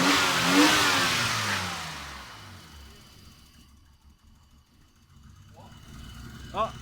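A BMW E32 six-cylinder engine runs just after an injector rebuild. It starts loud, winds down from a rev and settles into a quieter, low, steady idle.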